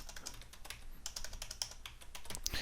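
Rapid typing on a computer keyboard, a steady stream of close, light key clicks with irregular rhythm and no talk.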